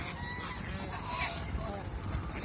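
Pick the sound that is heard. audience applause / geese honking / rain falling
geese honking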